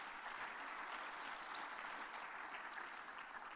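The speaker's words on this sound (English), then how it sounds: "A round of applause, please." Audience applause at the closing ceremony of an agroforestry world congress, a broad, sustained wash of clapping from a large hall that holds steady throughout.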